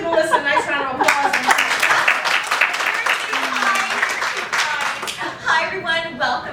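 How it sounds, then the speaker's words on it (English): A small audience at an improv comedy show claps for a performer, lively scattered applause with voices talking and laughing over it throughout. "So let's give Melissa a nice round of applause."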